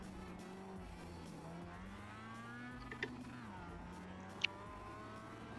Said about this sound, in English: these cars sound like lawnmowers